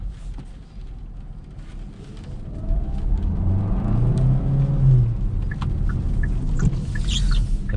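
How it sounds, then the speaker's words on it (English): A 2022 Hyundai Tucson hybrid SUV pulls away on electric power before its engine kicks in, bringing a steady low drivetrain rumble and whir that swells noticeably partway through as the gasoline engine joins under acceleration. "you accelerate with the electric motor, and then the engine kicks in to help out that electric motor"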